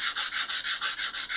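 Sandpaper rubs paint off a plastic model kit part in steady, even back-and-forth strokes, about eight close, loud scrapes in a regular rhythm with no talking.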